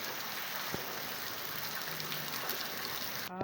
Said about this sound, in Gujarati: વરસાદની ધમાકેદાર એન્ટ્રી થઈ ગઈ છે.